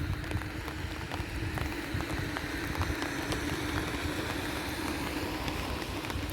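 Rain falls on open water where gulls and ducks swim, a steady dense patter with a low rumble beneath, continuous and fairly faint.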